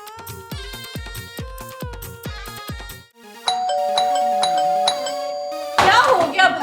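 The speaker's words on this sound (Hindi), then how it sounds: "डोरबेल से हाथ तो हटा लो" A chiming doorbell rings over and over in quick succession, loud and close, its tones overlapping into a continuous jangle.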